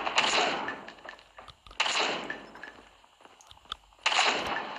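Gunfire in Call of Duty Mobile, with several bursts of shots in a broken rhythm separated by quieter gaps of game ambience, loud and close.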